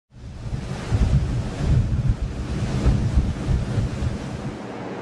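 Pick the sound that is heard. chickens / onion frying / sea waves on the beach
sea waves on the beach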